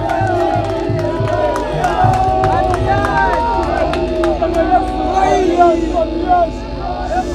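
Crowd at a political gathering in Kinshasa, a dense babble of cheering, whoops and clapping that stays loud and continuous throughout.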